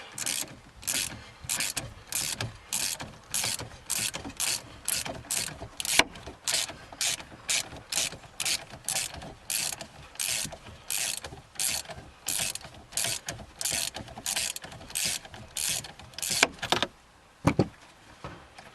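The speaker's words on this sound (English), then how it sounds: "get the nut and washer off the top of the shock" A ratchet wrench removes the nut and washer from the top of a shock absorber on a 2007 Ford Escape, giving a steady run of loud, evenly spaced clicking strokes, close and alone, ending with a few slower clicks.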